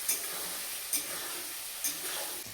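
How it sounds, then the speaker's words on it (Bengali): Paneer fries in a pan with a soft, low sizzle, broken by three brief scraping stirs spaced about a second apart. "এখন হচ্ছে পনির ভাজা চলছে"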